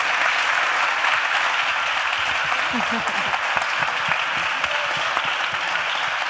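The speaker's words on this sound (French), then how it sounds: "J'ai envie qu'on applaudisse quand même très très fort les participants et participantes" An audience at a French-language live event in a museum applauds the participants with sustained, even clapping. The applause is dense and continuous, with a few sharper individual claps standing out near the front.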